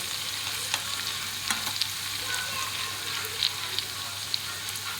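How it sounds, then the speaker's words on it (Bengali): Gram flour and flattened rice snacks deep-frying in hot oil, a soft continuous bubbling sizzle with faint crackles and small pops, close but fairly quiet. "এইভাবে করে আমি এগুলোকে ভেজে নেব"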